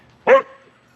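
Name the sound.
dog barking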